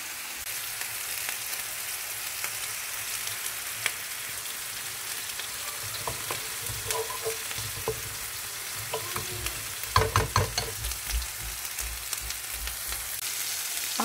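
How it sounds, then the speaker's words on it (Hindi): Lamb mince kebabs frying in a pan, a continuous soft sizzle with scattered pops and crackles and a few clinks of stirring, close and fairly quiet throughout. "आपने कबाब को उस वक्त तक पकाना है जब तक इनके ऊपर थोड़ा थोड़ा कलर नहीं आ जाता।"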